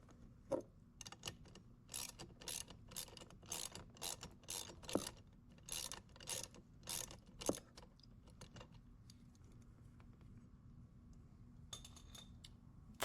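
A ratchet wrench tightens a bolt while fitting a Checkmate striping kit to an EGO lawn mower, giving a run of about a dozen quiet, evenly spaced clicking strokes that thin out and stop, with no talk.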